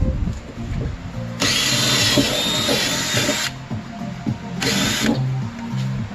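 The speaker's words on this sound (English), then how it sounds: "So he's drilling out, then he's gonna pop it out" A power drill bites into metal, drilling out tack welds on a Honda Civic EG in a workshop, in two close, loud bursts of whining separated by a pause, with clattering and mechanical noise between.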